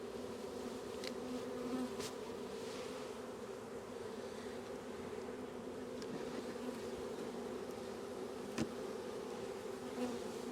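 Honeybees buzz steadily at an open beehive during a hive check, a hive that is being robbed out. The dense, even drone continues without a break, with a few brief close passes and no talking.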